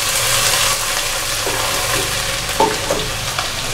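Ginger garlic paste frying with onions in a pan, a continuous close sizzle with occasional stirring scrapes and spatula clicks, loud and alone without talk.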